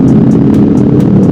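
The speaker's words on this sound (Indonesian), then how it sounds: "Buset, knalpotnya keras-keras banget cok" A loud motorcycle exhaust on a night ride drones steadily and close up, a constant throaty roar with no break, a faint regular ticking sitting above it.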